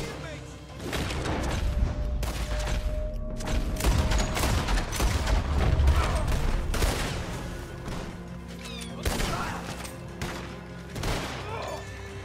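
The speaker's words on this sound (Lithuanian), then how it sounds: "Šaudo viską, kas juda ar nejuda" Gunfire in the Western video game Red Dead Redemption 2, bursts of rapid shots and booming reports scattered through a gang battle, loud and dense, with someone talking over the shooting.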